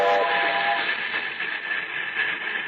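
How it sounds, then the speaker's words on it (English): A train whistle blows in one sustained, bright tone over a rumbling moving train crossing a trestle, with a narrow, radio-like quality. "Blow the whistle for Grandpa."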